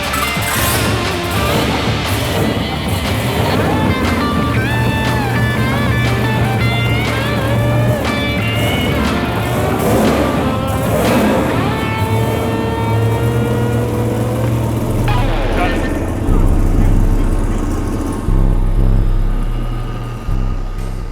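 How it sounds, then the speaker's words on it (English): A drag car engine running on a dyno in a shop, revving loudly with rising and falling pitch sweeps, then settling into a heavy low rumble near the end. "they just ran it on the dyno for the first time"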